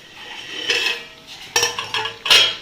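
A metal lid lifts off a pot of curry with a few close clanks and scrapes of cookware, loud and sharp, with no talking.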